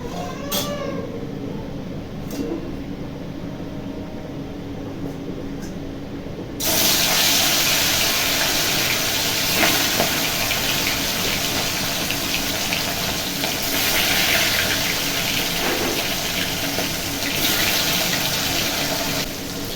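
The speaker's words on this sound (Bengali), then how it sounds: "আমি এবার মাছগুলো ভেজে নেব।" Fish dropped into hot oil in a wok bursts into a loud, steady hissing sizzle that starts abruptly partway through and carries on evenly, after a quieter stretch with a few faint clicks and kitchen sounds.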